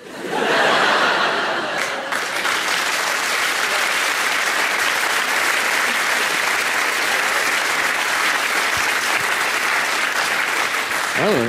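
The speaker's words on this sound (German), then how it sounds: "Oh, Sie klatschen" An audience at a live German comedy show applauds steadily and loudly throughout, with some chuckles mixed into the continuous clapping.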